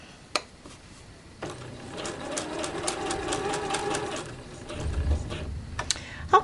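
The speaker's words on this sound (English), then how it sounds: "I am sewing at a 5/8 inch seam allowance." A sewing machine sews a fabric seam for a baby nursing cover-up in one short, moderately quiet run of rapid stitching, with a few soft clicks and handling noises before and after.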